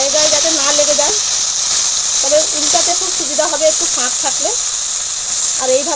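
Lotta fish sizzle loudly and steadily in hot oil in a pan, a constant close hiss running throughout while a person talks over it.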